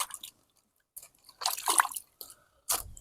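Crabs being washed by hand in water for a village-style crab curry make short wet splashes, squishes and drips in separate close bursts with quiet gaps between.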